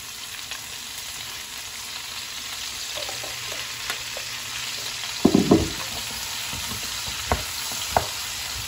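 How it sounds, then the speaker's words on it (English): Vegetables for butternut squash soup sauteing over medium heat in a Dutch oven: a steady, loud sizzle with a few clunks and scrapes of stirring toward the end, no voices. "now it's time to saute the veggies. We're gonna dump everything into this Dutch oven"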